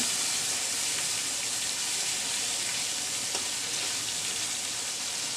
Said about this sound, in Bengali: আর অল্প পানি দিচ্ছি মশলাটা লেগে যাবে